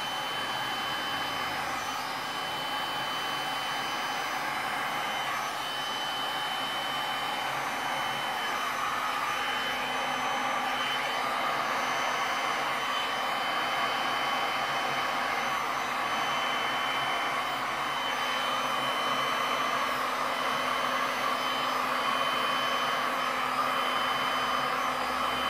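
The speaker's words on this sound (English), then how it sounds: "I'm going back to the blow dryer." A blow dryer aimed at a resin pour runs in one continuous, loud airy roar for the whole stretch, steady and close with no breaks and no voices.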